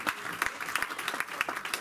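A church congregation applauding, a brief burst of scattered, moderately loud claps.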